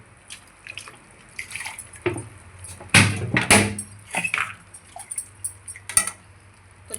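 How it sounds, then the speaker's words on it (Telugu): Water poured into a tomato and coriander chutney, intermittent splashing and clinking from the pouring and stirring, quiet between bursts. "ఇప్పుడు ఒకసారి కొంచెం వాటర్ వేసుకుంటే కొంచెం పలుచగా వస్తుంది"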